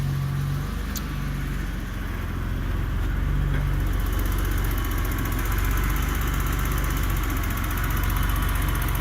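A 1987 BMW 635csi with a manual transmission idles steadily and close by after sitting through winter, giving a continuous low engine drone with an even mechanical rhythm and no voices.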